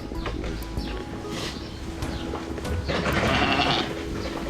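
Ewe bleating on a farm during lambing, just after giving birth to a single lamb, a few wavering bleats at moderate distance over steady background noise.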